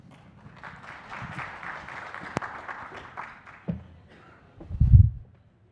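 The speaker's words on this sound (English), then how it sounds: "Please give him a round of applause." An audience at a talk on IoT and individual leadership applauds a presenter with a moderate, steady patter of clapping that builds and then thins out, followed by a few dull low thumps.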